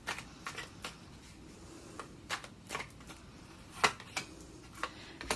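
Soft, close shuffling of tarot cards, with irregular light riffles and taps and one sharper snap, quiet and alone with no voices.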